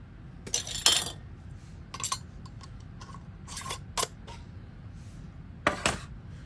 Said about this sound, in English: we're going to put our our lids on, and then our ring finger tight